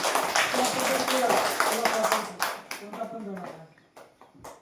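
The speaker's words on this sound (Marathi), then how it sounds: "जोरदार टाळ्या वाजवा त्याच्यासाठी." Broadband crackling applause from a crowd, steady at first then thinning into scattered claps toward the end, with voices mixed in.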